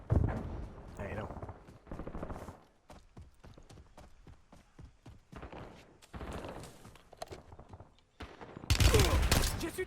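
Gunfire in the battle royale game Warzone, a solo player against a squad: bursts of sharp shots in clusters, with a loud heavy volley at the end, mixed with excited talk.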